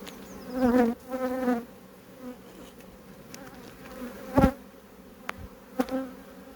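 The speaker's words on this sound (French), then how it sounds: "Ce sont des abeilles noires hybrides, donc pas très commodes." Hybrid black honeybees buzzing close by in several passes, droning swells that rise and fade, with a few sharp knocks between them, during a spring hive inspection.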